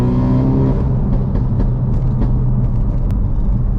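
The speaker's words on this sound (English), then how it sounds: "you'll be able to hear the burbles as soon as I can downshift" Tuned Ford Focus RS engine and exhaust hold a loud, steady low rumble with faint scattered pops and burbles as the car downshifts.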